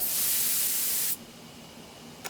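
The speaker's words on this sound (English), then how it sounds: "I take carefully aim and spray the drug." Drug sprayer in the video game Death Mark releasing a loud, steady hiss of spray that cuts off abruptly partway through, leaving a quiet room tone and a faint click at the end.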